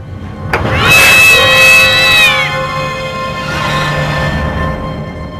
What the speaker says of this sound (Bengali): একটা বিড়াল